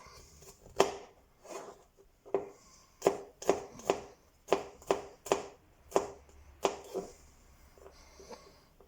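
Garlic is chopped with a knife on a board in a run of about a dozen crisp, close knocks, unevenly spaced, with short gaps between bursts and near silence behind them.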